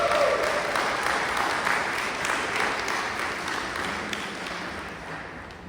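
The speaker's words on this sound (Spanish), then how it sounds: "yo quisiera pedirles un aplauso a Dios por la vida de mi esposa" Applause from a church congregation fills the space, a steady dense clapping that holds for several seconds and slowly tapers toward the end, with no voices over it.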